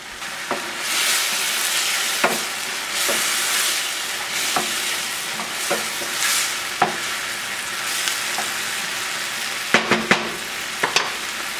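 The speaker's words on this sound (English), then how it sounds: "Stir it up really well so it covers all the ingredients." Chicken chasseur ingredients sizzle steadily in a hot pan while a utensil scrapes and taps through them, the scrapes landing every second or so over continuous frying hiss. No one speaks.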